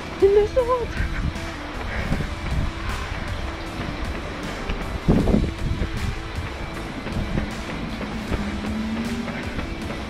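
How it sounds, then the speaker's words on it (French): Wind rushes and buffets against the microphone in a steady, rough roar during a nature trail race in Belgium, with a brief stronger gust midway. "le vent commence vraiment à se lever"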